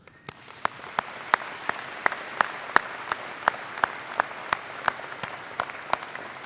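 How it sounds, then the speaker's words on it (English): Audience applause at a university convocation for the Faculty of Environment graduates, steady and moderately distant, with regular sharper claps standing out from the crowd in an even rhythm. "Graduates, I would like you to thank those who have made your convocation so special with a round of"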